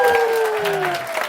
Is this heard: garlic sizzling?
no